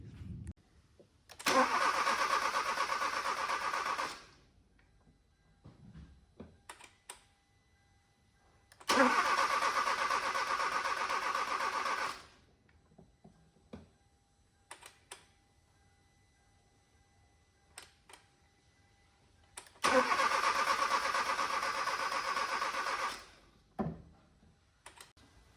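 A Hyundai Veloster with a knocking-noise fault cranks and starts three times, each loud burst of starter whir and engine catch lasting about three seconds, separated by quiet pauses with faint clicks and handling sounds.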